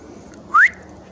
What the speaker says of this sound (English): What's this bloody whistling bullshit?